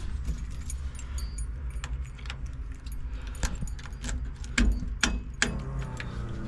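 Keys jangle close by as a key goes into the ignition of a 1965 Chevy C10 pickup, with scattered metallic clicks and rattles over a low steady hum.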